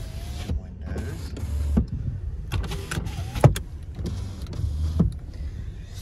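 Power windows of a 2012 Nissan Xterra running, with several motor whirs moving the glass up and down and a firm clunk as each window stops, heard close up inside the car.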